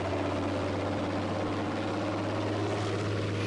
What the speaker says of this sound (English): Is that an enemy plane up in the air?